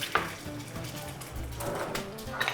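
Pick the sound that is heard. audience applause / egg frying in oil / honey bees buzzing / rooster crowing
egg frying in oil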